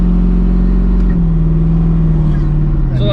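A 1000+ hp turbocharged Camaro drives and shifts gears, its engine a loud close droning hum whose pitch steps down and slides during a shift, with a brief rise near the end; a voice speaks over it.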